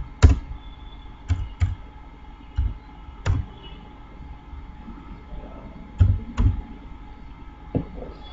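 Keys on a computer keyboard are pressed in irregular, separate clicks and clusters, close and fairly loud over a faint steady background hum.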